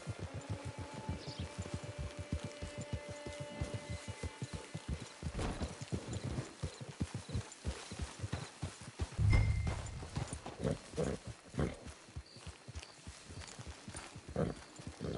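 Horse hooves clip-clop at a steady walking pace in the video game Red Dead Online, close and clear, with a brief thud partway through and faint ambience behind.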